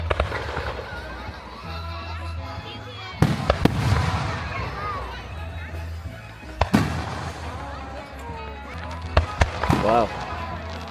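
Fireworks bang and crackle repeatedly at a festival in the USA, with several sharp bursts spaced a few seconds apart, while people talk and exclaim over the noise.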